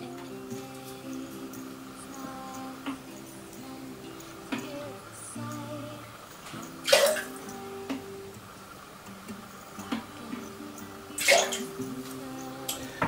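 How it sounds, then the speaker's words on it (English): Orange juice is poured into a jigger measure for a cocktail, with two brief, soft liquid trickles over a steady humming background. "we're going to measure out 2 bits of orange juice"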